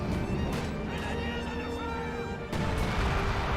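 Dense rumbling booms of a close range artillery barrage in Company of Heroes 2, with battlefield clatter and a sharp impact near the end, all thick and continuous under the din.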